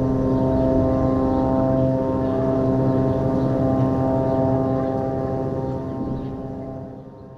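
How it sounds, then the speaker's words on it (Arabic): A Saudi aid aircraft arrives at Arish airport, its engines giving a steady, loud droning hum that holds for several seconds and then slowly fades. No one speaks. "نتابع الآن على الهواء مباشرة وصول طائرة مساعدات سعودية إلى مطار العريش"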